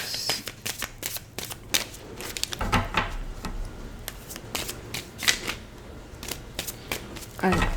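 A deck of tarot cards is shuffled and cut close by, a crisp irregular run of riffling snaps and flicks, with someone speaking French over it.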